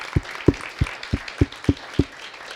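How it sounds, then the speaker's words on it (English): Steady rhythmic clapping at an arts festival summit in Yerevan, about eight evenly spaced, fairly close claps with a faint murmur of room ambience behind them. "I want to give one big applause to Sepehr"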